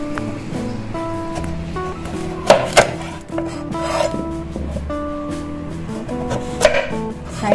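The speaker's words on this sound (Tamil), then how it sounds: "இதை வந்து சைடில் ரெண்டையும் கட் பண்ணிக்கலாம்." A knife cuts the ends off a washed sweet potato for chips, a few sharp chops and taps against a board over steady background music.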